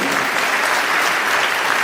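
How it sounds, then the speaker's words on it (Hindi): A college crowd at a Hindi poetry recital claps vigorously, dense continuous applause filling the hall, loud and close. "एक बार अपने लिए जोरदार तालियां बजा दीजिए"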